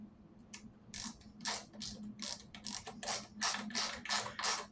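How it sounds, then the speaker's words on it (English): A bolt is turned into a Pioneer turntable foot mount to cut threads, giving a close series of rhythmic ratcheting clicks, roughly ten sharp bursts after a quiet start. "so you just run this bolt in. It's the same thread as the foot."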